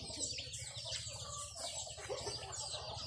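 Chickens cluck softly and intermittently at a rural Isan farmstead in the evening, faint and somewhat distant against a quiet background.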